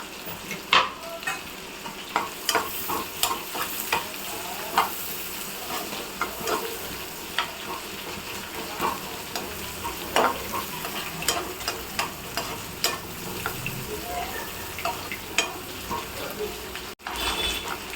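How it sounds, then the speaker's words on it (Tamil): Onion fries in melted butter, a steady close sizzle broken by frequent scraping and tapping of a spoon stirring the pan, with faint talking in the background. "நம்ம பட்டர் மெல்ட் ஆகிட்டுருக்கு இது கூட நம்ம வந்து ஆனியன் போட்டுக்கலாம் வெங்காயம் போட்டுக்கலாம்"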